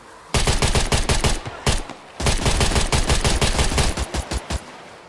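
Bursts of rapid automatic gunfire ring out in the video game SCUM, loud and close, in several long strings broken by short pauses, ending in a few scattered single shots.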